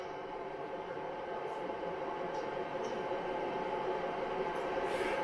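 In Train Simulator, a train rolls down a steep grade on Canjun Pass, producing a steady, dense rumble and wheel hiss throughout with a few faint higher squeals.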